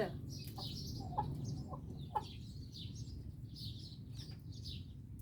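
Chickens cluck and chirp in short, scattered bursts, fairly faint and slightly distant, over a steady low outdoor hum.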